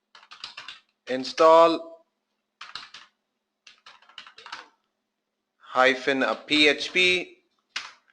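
Short bursts of computer keyboard typing as a command is entered in a terminal, scattered in quiet gaps between stretches of a man's nearby speech.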